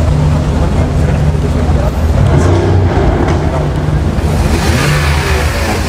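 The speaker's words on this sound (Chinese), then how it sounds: "这个车也在试它的发动机" A luxury car revs its engine on a city street during the Montreal F1 festival, a loud, dense roar with rising pushes over steady traffic and crowd noise, with voices mixed in.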